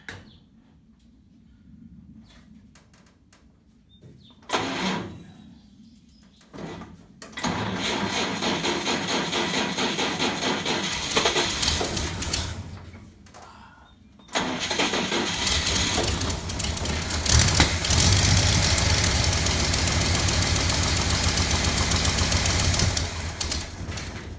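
A 1947 GMC truck engine is cranked on nearly full choke, catches after a couple of tries, then runs at a loud rough idle that stumbles and cuts out before restarting, heard close up with no talk.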